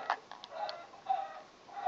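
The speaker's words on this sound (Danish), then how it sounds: "Nej, jeg tror det er en kylling, som er sort." Clucking of a black chicken in the Minecraft video game on PS3: a few short, faint clucks and chirps in quick, uneven bursts, heard alone against a quiet background.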